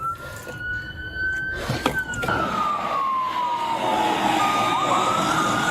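A police car siren wails over loud road and engine rumble, its steady tone holding and then slowly sliding lower as the vehicle passes. No one speaks.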